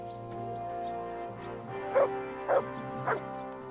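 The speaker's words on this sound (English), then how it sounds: "No one wants to hear your barking." Dog barking in Kingdom Come: Deliverance II, three loud sharp barks at even intervals over a steady tonal game music and ambience bed.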